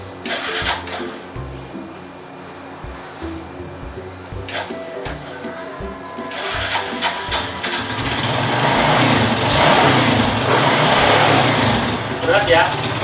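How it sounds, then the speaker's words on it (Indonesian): A car engine cranks on its starter motor during a battery cranking current test, sounding heavy and labored, with someone talking over it before the engine noise builds into a louder steady run. "Kita starter ya, coba ya."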